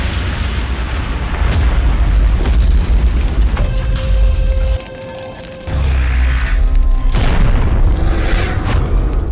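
Gas cylinder explosion effect: heavy booming blasts with deep rumbling low end and crackling debris, loud and close, briefly dropping away mid-clip before the roar returns.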